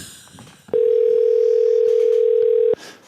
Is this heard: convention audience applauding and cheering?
no